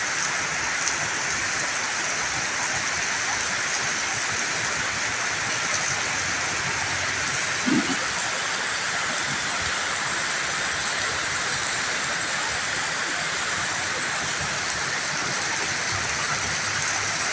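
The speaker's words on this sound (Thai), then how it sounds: "บรรยากาศตลาดรถกมหนึ่งฝนตกครับทุกคน" Steady, dense rainfall hisses continuously over a used car market in Thailand, evenly loud throughout with a brief faint knock partway through.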